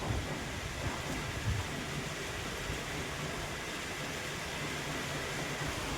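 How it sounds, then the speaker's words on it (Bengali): Heavy rain pours down outside as a dense, steady roar of broadband hiss that stays loud and unbroken for the whole stretch, with no talking. "দেখো কি জোরে বৃষ্টি নামিয়েছে"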